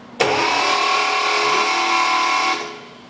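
A 1973 Triumph TR6 engine under restoration is cranked by its starter for a couple of seconds, giving a loud, steady, even whir that cuts in abruptly and stops just as suddenly, with no people talking.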